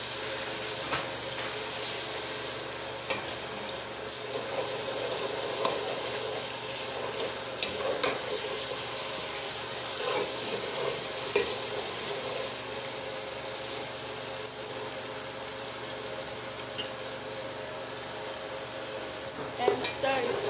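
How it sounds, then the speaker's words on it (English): Jollof spaghetti simmers and sizzles in a pot while being stirred, a steady hiss with occasional scrapes and knocks of the spoon, moderately close and without talking. "And stir it."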